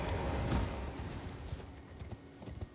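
Rhythmic clip-clop of hooves as a horse gallops in the video game Elden Ring, steady and fairly close, with a brief louder burst early on.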